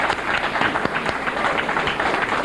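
An audience gives a steady round of applause during a lecture, dense continuous clapping at moderate loudness with no voices over it.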